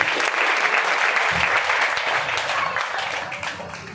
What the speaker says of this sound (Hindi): राउंडिंग अप्लॉज इन लोगों के लिए, जोरदार ताली मेहमान के लिए।